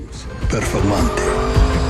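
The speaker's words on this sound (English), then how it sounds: "The Lamborghini Urus Performante." A Lamborghini Urus Performante SUV, a 2-ton super SUV, accelerates hard with a rising engine roar and brief tire noise, loud and close for about two seconds.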